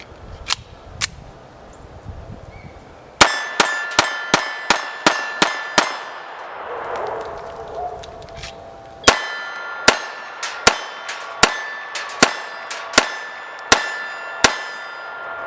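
A M70 Zastava pistol in .32 ACP fires at steel targets, giving a string of sharp shots, each followed by a ringing clang. The shots come in two quick, rhythmic volleys with a short pause between them.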